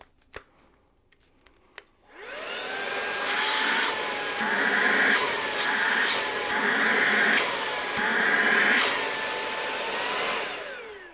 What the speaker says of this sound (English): you can also use this as a vacuum